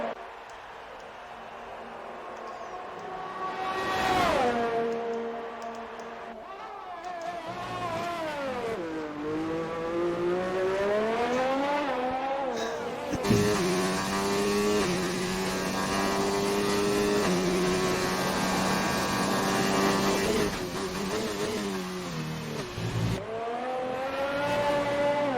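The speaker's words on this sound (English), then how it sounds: "But let's hop on board with Whistler, as it looks like he is getting his flying lap underway here at Austria." Race car engine in a racing video game heard onboard during a flying lap at Austria, rising and falling through gear changes as it accelerates and brakes, loud and continuous throughout.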